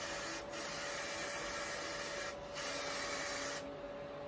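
Root cover-up hair spray hisses from an aerosol can in a few long, steady bursts with brief gaps between them, close and alone.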